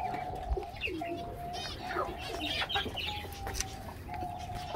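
A hen with small chicks in a backyard coop with rabbits: repeated high peeping from the chicks over soft clucking, steady and fairly close with faint background noise.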